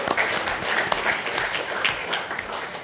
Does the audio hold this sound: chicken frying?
no